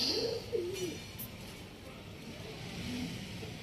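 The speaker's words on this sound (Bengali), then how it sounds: "বাহ, এই দেখুন পায়রা।" A pigeon coos in a couple of soft, low phrases early on and once more later, over a steady background rumble that suggests passing traffic.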